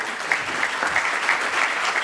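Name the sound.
audience applause at a conference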